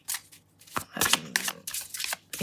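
A deck of cards is shuffled in several quick riffling bursts, crisp and close, with brief pauses between.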